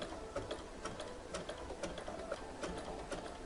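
A sewing machine stitches elastic onto knit underwear with a rapid, even mechanical chatter. Fast needle ticks run close and continuous with no talking.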